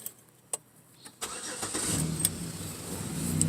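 A few faint clicks and a thump, then a 2006 Chevrolet Equinox engine with a new muffler cranks and catches, settling into a steady rumbling idle nearby.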